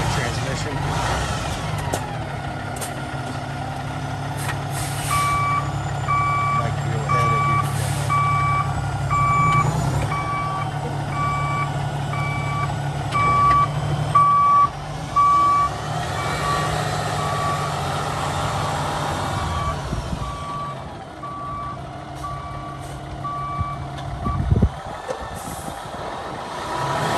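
A 2018 Peterbilt 567 truck with automatic transmission idles steadily after starting, its low engine drone running throughout while reversing beeps pulse in a regular series and a voice talks over it.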